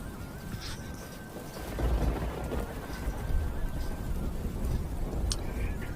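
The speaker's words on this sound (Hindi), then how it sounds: "बहुत ज़ोरों से बारिश हो रही थी।" Heavy rain pours steadily in a cartoon scene, a dense roar that swells after the first couple of seconds and stays loud, with faint tones and brief ticks above it.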